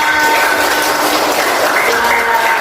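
An audience at an Indonesian teachers' presentation session breaks into applause, a loud, steady wash of many hands clapping together that fills the whole moment without letup.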